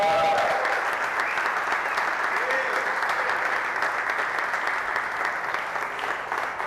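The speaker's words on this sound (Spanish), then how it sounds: "¿Cuánto le damos un aplauso al Señor?" A church congregation applauds for the Lord, steady dense clapping that fills the room evenly from start to finish.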